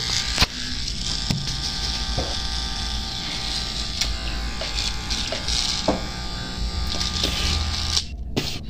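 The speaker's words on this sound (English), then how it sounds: "Shave it up a little bit." An electric razor buzzes steadily and close by as it shaves and trims a goatee during a home shape-up, with faint scraping and brief ticks over the continuous hum.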